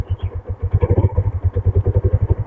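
A blue and white 2005 Yamaha Jupiter Z motorcycle's engine starts and settles into a steady, rapid idle, with even low thumping pulses close by and no talk.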